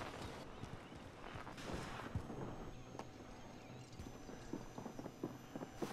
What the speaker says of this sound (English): I hear mad footsteps. Mad footsteps.